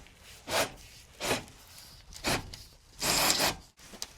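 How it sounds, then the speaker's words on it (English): Vinyl J-trim sliding down into a wall channel on a house build, heard as four separate scraping, rubbing strokes, the last one longer and louder, close by with no talking. "we're gonna slide that J-trim in all the way down from the top here"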